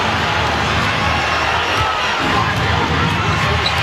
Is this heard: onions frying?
no